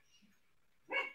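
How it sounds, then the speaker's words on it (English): A dog outdoors gives a single short, muffled bark near the end, heard faintly from a distance after a mostly quiet stretch. "Sorry if you hear my actual dog outside."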